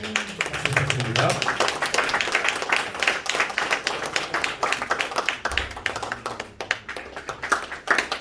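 A crowd claps steadily throughout, with a low voice briefly audible under the applause near the start.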